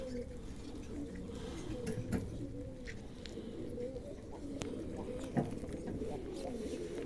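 Soft, repeated coos of racing pigeons at a pigeon competition over a steady outdoor background, with a few brief louder bird calls scattered through and faint human activity nearby.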